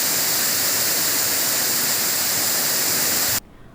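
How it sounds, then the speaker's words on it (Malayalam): Steady, dense roar of the Palaruvi waterfall at Aryankavu, continuous broadband rushing water heard up close, cutting off suddenly near the end. "ആര്യൻകാവ് പാലരുവി വെള്ളച്ചാട്ടവും മെലിഞ്ഞു."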